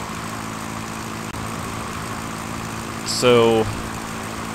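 A steady, droning propeller aircraft engine hums in the Sierra Pro Pilot flight simulator game, someone speaks briefly over it, and a short louder burst rises late before the drone settles back.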